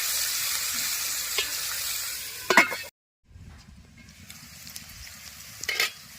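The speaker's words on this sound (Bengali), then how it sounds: "আমি ঢাকনা খুলে আবারও নেড়ে নিচ্ছি" Ivy gourd (kundri) fries and sizzles in a pan as it is stirred, with scraping stirs at about 2.5 and 5.8 seconds. A brief silent gap comes as the lid is handled, then a quieter, steady sizzle continues close by.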